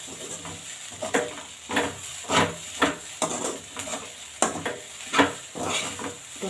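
Fried fish roe is stirred in a pan with garam masala, a spoon scraping and knocking against the metal in irregular strokes about every second over a soft, steady sizzle, close by and with no talking.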